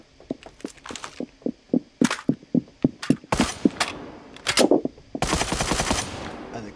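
Gunfire in the online shooter Badlanders: rapid rhythmic bursts of sharp cracks, first a steady string of single shots, then denser automatic volleys, fairly close and loud.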